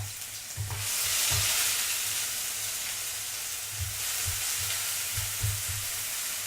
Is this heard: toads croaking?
no